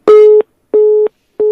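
Phone line busy signal heard during a radio call-in, three loud steady tones, each about a third of a second long, separated by short silent gaps in an even rhythm, with no voices.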